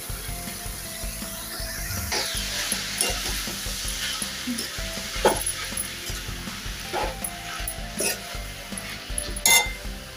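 Spring onion greens stirred into a fried onion masala in a pan: a continuous sizzle with intermittent scraping knocks from stirring, moderately loud, without speech.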